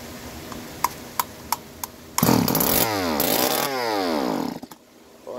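A Stihl FS 85 RX string trimmer engine idles with a few sharp clicks, then roars loud and close as it accelerates, revving up and down in sweeping pitch before dropping back off.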